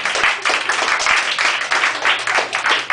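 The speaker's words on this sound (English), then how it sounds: "Round of applause for Ms. Alondra." A classroom of students gives a round of applause for a game winner, with brisk, steady clapping from a small group that stays close and loud throughout.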